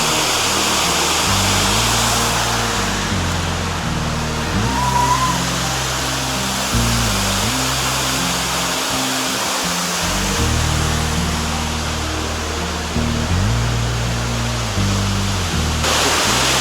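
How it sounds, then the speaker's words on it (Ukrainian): Steady broadband roar of the Probiy waterfall in Yaremche fills the whole stretch, loud and constant, with low rumbling murmurs underneath. "Далі тут водоспад пробіг, він взагалі поруч знаходиться."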